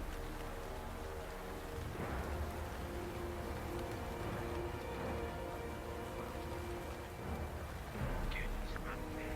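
Rain falls steadily in a continuous soft wash, with a low rumble and a few faint chirps near the end. Voices may be faintly present beneath it.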